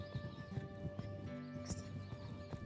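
Horse hooves beat a steady clip-clop rhythm on an arena surface during dressage, the hoofbeats close and moderately loud with a constant tonal hum underneath and no talking.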